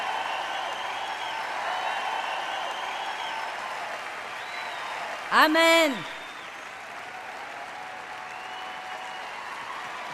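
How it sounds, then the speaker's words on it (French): Applause from a church congregation carries on as a steady, fairly soft wash of many hands clapping throughout, while a single spoken word rises briefly over it midway. "Applaudissons fort à Dave."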